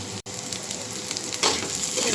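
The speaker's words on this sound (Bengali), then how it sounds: "আলুটাও ভেজে নিচ্ছি এই প্যানটার মধ্যেই" Potatoes fry in a pan with a soft, steady sizzle that swells louder partway through, broken by a very brief gap near the start, close by and without talk.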